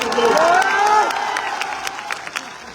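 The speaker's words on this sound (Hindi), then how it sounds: "इसके लिए जोरदार ताली बजाओ।" A political rally crowd in Bihar breaks into loud applause and cheering, the clapping steady and dense before fading slightly, with shouting voices mixed in.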